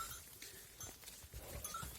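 Buffaloes being led out to graze on a farm, with faint shuffling and animal movement sounds under a steady outdoor background, no clear calls.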